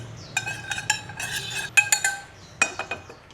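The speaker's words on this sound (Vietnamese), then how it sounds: "Và mình sẽ khuấy đều cái phần nước này lên" A spoon stirring ginger-scallion sauce in a bowl, giving a series of sharp metallic clinks and scrapes in quick irregular bursts, close and clear with no talk.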